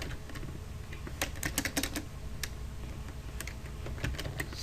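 Code being typed on a computer keyboard, with sparse, irregular key clicks and short clustered bursts over a steady background hum.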